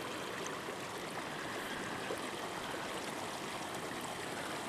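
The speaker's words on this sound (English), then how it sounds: "Our little wet meadow here and our water stream" A small mountain stream flows beside a wet meadow near a lakeside campsite, a steady, close, even rush of water with no voices.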